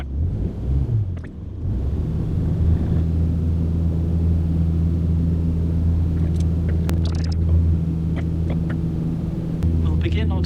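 Aircraft engine at takeoff in Microsoft Flight Simulator, a steady, loud, low droning hum that holds throughout, with a voice speaking over it at times.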